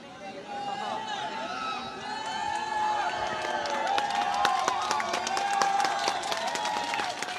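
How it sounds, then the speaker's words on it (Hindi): Audience at a bhajan singing competition final applauding strongly, clapping building to a dense, sustained burst while a microphone voice and musical tones carry over it. "जोरदार ताली बजाएं"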